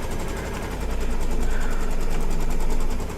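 An embroidery sewing machine stitching down thread on a quilt block, a steady, rapid mechanical needle rhythm running continuously and fairly loud, with no talking.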